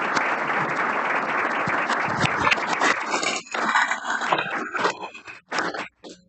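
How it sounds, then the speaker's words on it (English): A council meeting audience applauds a youth baseball team, the winning champions of the Mineral Wells Baseball League, with dense clapping that holds steady for about three seconds, then thins into scattered claps and trails off. "And so I'd like a round of applause for these athletes."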